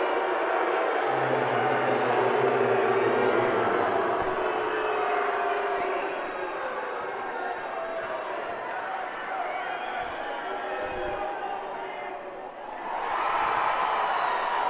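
Spectators at a girls' varsity high school basketball state championship game, Fannin County against Josey, send up a steady, agitated roar throughout, with a commentator talking over it.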